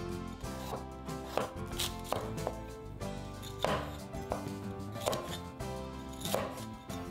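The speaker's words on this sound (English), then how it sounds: "and thinly slice the carrots." Carrots being thinly sliced with a knife on a cutting board for a chicken and broccoli stir fry: a steady run of close, crisp chopping taps at a quick, even rhythm, with no talking.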